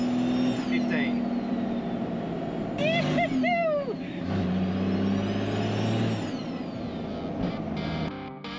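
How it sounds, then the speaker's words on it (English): A Toyota Patrol with a swapped 1HD-FTE turbo diesel runs on a dyno, its engine droning steadily while turbo whistles rise and fall, with people talking over it throughout. "Start spooling, and it's not even at 4 pounds yet."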